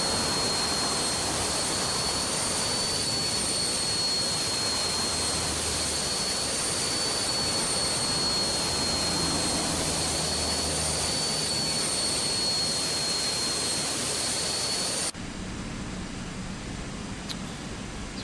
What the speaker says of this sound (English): So we got the APU kicking